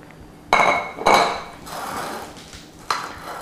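A utensil clinks and scrapes against a baking pan while lime-coconut cake batter is spread, a few distinct metallic taps and smears, close and clear, with no voices.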